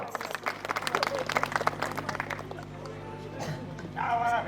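A crowd at a Gujarati natak gives a short burst of clapping for a donor, dense and lively at first and then thinning as the hands slow, followed by a few faint murmurs and a dog's bark.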